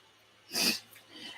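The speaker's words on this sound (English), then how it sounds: "I got a tickle. I need to sneeze." A single short, sharp sneeze bursts out close by in an otherwise quiet room, followed by soft breathing.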